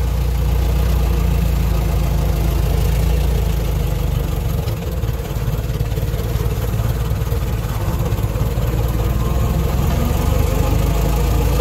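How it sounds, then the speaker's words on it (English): Ford Model T engine pulling away in low gear under a little throttle, a loud, close, continuous low rumble that holds steady with a slight dip in the middle. "I'm going to give it a little bit of throttle, and at the same time I'm going to give it the low pedal, and we're going to start moving"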